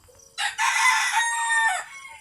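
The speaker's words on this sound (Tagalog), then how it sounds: "may manok kami dito sa ano, sa bakuran kaya ang ingay" A rooster crows once in a backyard, loud and close, a long drawn-out call lasting over a second with no talking around it.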